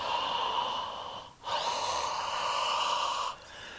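A person takes a soft, drawn-out inhale during a guided breathing exercise in a fitness class, briefly breaks, then inhales again over a steady background tone.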